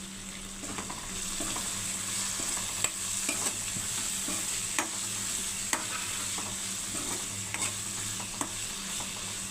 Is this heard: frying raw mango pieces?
yes